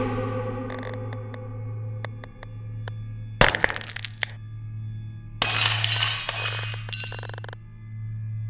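A crystal heart shatters like glass in The Girl of Glass, a sharp crack followed by a tinkling burst, then a second longer shattering spray of glassy fragments over a low steady hum and scattered chimes.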